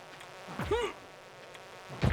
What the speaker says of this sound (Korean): 뭔가 위 하는 소리 나면은 모기 같은 소리 있죠